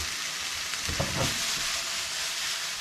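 Wild oyster mushrooms and wild ginger sizzle steadily in a hot pan over high heat, a continuous close frying hiss with a brief stir of crackling in the middle, no talk.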